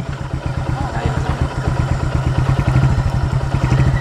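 A motorcycle engine runs steadily close by on a Philippine road, its low rhythmic thudding pulse continuous and loud for several seconds with faint background clatter.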